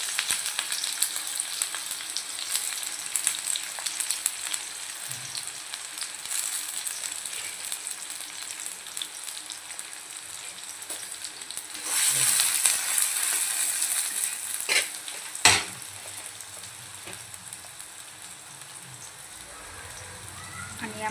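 Onion dropped into hot oil in a pan, crackling and frying with a rain-like patter that grows louder partway through, with occasional stirring knocks.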